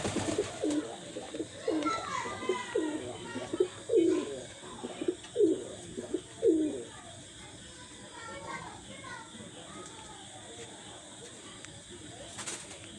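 Domestic pigeons in a home loft cooing close by, a run of repeated throaty coos in the first half that fade to quieter background murmurs, with occasional faint rustling.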